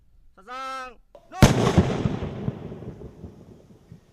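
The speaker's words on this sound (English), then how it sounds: "There is only one way to be certain this shell is out of commission for good: blow it up, right where it was found." Controlled detonation of an unexploded artillery shell where it was found in Vietnam: a single heavy blast with a deep rumbling tail that fades over a few seconds, preceded by a short tonal signal tone.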